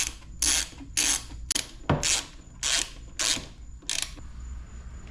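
Bolts go into an Aprilia RS660 track build with a ratchet tool, heard as about eight short, crisp clicking bursts in a steady rhythm, close up and with no speech.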